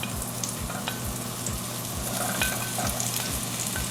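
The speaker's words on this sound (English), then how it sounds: "So we're going to just add the mushrooms to this bacon grease." Sliced mushrooms sizzle and crackle in hot bacon grease, with a steady frying hiss and regular stirring scrapes of a utensil against the pan, close and continuous.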